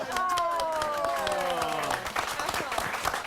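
Studio audience applause on a daytime TV show, a loud steady patter of many hands clapping, with a tonal whistle or squeal sliding down over the first two seconds before the clapping carries on alone.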